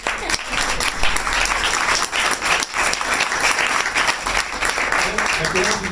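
A crowd at a public assembly applauds loudly and continuously for an Environment Secretary, dense clapping filling the space with faint voices beneath.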